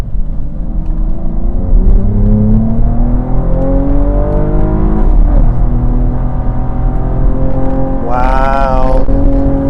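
Cadillac ATS-V engine revving hard while cornering on a winding road, loud and close from inside the cabin, pitch rising through gears with a brief dip before climbing again and a sharp high rev burst near the end.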